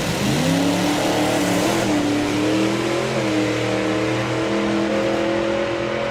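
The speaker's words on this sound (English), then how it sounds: "Supercharged big block Ford." A supercharged big block Ford drag car engine at a drag racing meet revs loud and close, its pitch climbing and rising again over several seconds with no talk.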